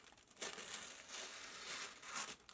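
Cutting open the package of a Noctua NP-H1 hoodie: soft, close crinkling and scraping of plastic or paper as a blade slides through, with a few sharper rustles, quiet throughout.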